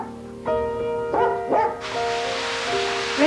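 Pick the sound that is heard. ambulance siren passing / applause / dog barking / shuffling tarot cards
dog barking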